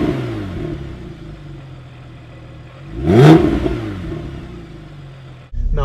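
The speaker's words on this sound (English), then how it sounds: "listen to this engine while I start it up." Steady Porsche Boxster S engine rumble, then a sharp rev swells around the middle and settles back into a running idle before a brief cutoff and restart.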